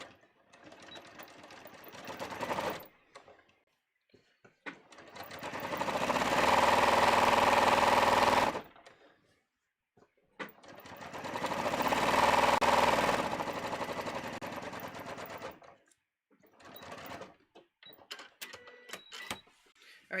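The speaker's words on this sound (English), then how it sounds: "So let me just do this other side seam. And then we will sew the leg deeper." A sewing machine runs in two long, steady bursts stitching the side seam of fitted pants, loud and close, with quieter handling clicks and fabric rustle in the pauses between.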